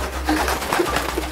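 A wild pigeon coos close by, a short soft cooing phrase over a low steady hum.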